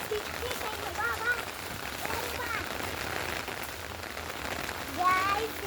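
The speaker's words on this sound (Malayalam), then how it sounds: "നല്ല മഴ വരുന്നുണ്ട്." Steady rain falls with a constant wash of hiss and patter, fairly close, with a few faint whistling tones over it.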